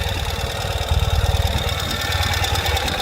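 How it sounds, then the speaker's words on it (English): A 2020 Ural Gear Up sidecar motorcycle in burnt orange idles nearby, its engine thumping in a steady low, uneven rhythm as it warms up, with no talk over it. "You can hear that idle starting to drop because it's warming up a little bit."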